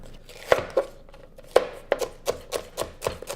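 A knife rough-chops celery and carrot on a cutting board for a roasted turkey, about ten crisp close chops in an uneven rhythm, with nobody talking.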